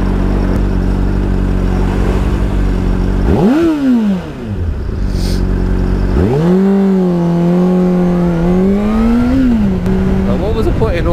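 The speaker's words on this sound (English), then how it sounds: "He's fucking crawling forward and then revs his fucking van." A van engine idles with a low steady hum, then revs sharply twice as the vehicle crawls forward, each rev rising and falling in pitch, loud and close.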